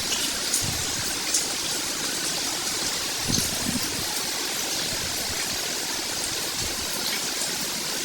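Heavy rain pouring in the mountains, a dense continuous hiss of falling water with occasional nearer drips and thuds.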